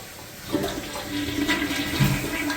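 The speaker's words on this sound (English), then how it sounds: "Now watch the toilet. Usually that'll give a thump." A household toilet with a clogged drain flushes, water rushing steadily for a couple of seconds, and a low dull thump from the bottom of the bowl comes near the end.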